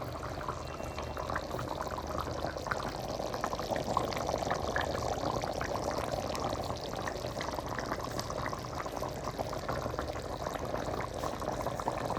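A spicy chicken curry bubbles in a pot, giving a steady, continuous simmering and bubbling sound that stays at an even level throughout with no voices.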